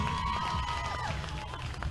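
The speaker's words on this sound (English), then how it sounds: "and then noise from the crowd" Roaring crowd noise at a barrel racing rodeo right after a run, a steady, dense wash of cheering and shouting that holds at an even level for about two seconds.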